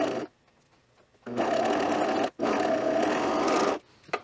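A sewing machine stitches the collar of a hemp fleece pullover in two sustained runs, a short burst at the start and then two long bursts split by a brief pause, loud and close with no speech.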